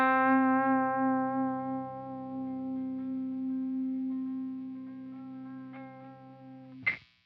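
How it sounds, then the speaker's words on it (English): A sustained electric guitar note through a LEKATO R COMP compressor pedal, held at an even, steady level for about seven seconds with little decay, ending in a brief sharp click as it is cut off. "And then once you click on a compression pedal,"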